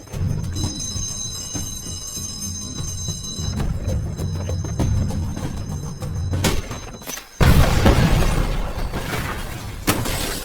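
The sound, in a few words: explosion of improvised bomb in film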